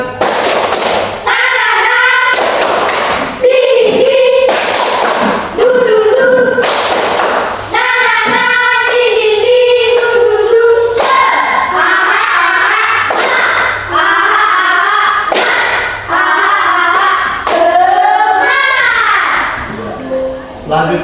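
A school class claps a rhythmic group cheer in unison, the tepuk semangat, with sharp patterned claps and children's voices chanting along loudly throughout.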